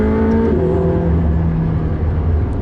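A McLaren 675LT engine runs loud and steady under throttle, its pitch dipping as a gear changes under load, with a brief sharp whip crack near the start.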